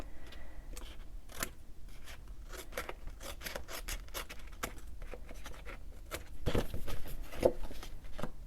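Scissors snip off paper scraps from a scrapbook page, a rapid series of crisp, close cuts and rustles, growing louder and busier toward the end.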